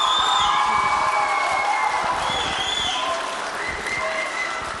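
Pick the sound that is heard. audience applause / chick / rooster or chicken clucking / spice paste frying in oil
audience applause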